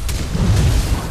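A heavy cannon booming in a video game battle, one loud, rumbling low blast that sustains for about a second.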